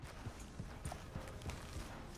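Horse hooves clip-clop at a steady walking pace in Red Dead Redemption 2, a handful of soft, evenly spaced thuds close by with no talk over them.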